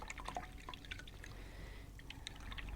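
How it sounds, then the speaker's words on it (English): Water drips, splashes and trickles softly from a paintbrush being rinsed in a container of clean water while watercolor painting, a faint, steady wet sound over low background hiss. "I'm going to just clean out my brush"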